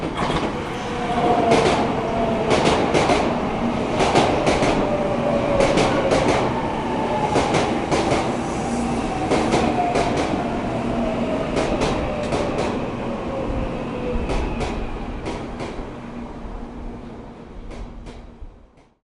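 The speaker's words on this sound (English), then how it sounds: "The train bound for Shibuya." A train pulls into a Tokyo station platform, bound for Shibuya, with loud rolling wheels, repeated clickety-clack rail joints and a faint squeal that slowly fades as it slows, with no talk.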